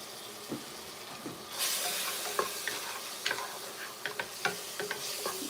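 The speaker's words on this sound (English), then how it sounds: "I'm gonna do like two heaping tablespoons of minced garlic. Cook that with the butter." Minced garlic sizzles in butter in a pan at a steady frying hiss, with scattered stirring clicks and scrapes over it.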